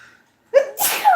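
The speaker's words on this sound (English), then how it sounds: "Oh, I'm about to sneeze." One person sneezes up close: a quick gasping inhale, then a loud burst with a voiced tail, alone and without talking.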